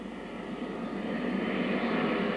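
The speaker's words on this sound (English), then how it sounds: "Reverse thrust comes in to slow the aeroplane further" Airliner on its landing rollout with reverse thrust engaged, a steady broad roar of jet engines that swells slightly toward the end, heard alone with no talk.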